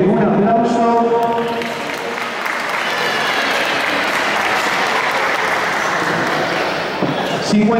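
An audience at a Mongolian wrestling event applauds in a long, loud, dense burst of clapping, with a voice speaking over it briefly at the start.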